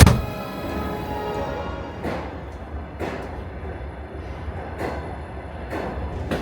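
A Red Arrow passenger train rumbles as it pulls away, with steady low rolling noise and periodic rhythmic clacks of wheels over rail joints.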